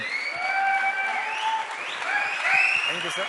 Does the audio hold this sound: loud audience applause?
yes